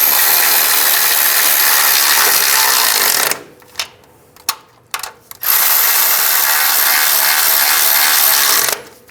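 Control arm nuts tightened on a 2005-15 Nissan Xterra, a rapid loud ratchet clicking for over three seconds, a pause with a few scattered clanks, then another long burst of ratcheting.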